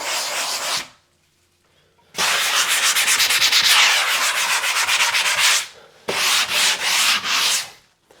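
Sanding spackle on an interior wall by hand, loud close scratchy strokes in a rapid back-and-forth rhythm, with two long bursts separated by a brief pause and a shorter burst at the end.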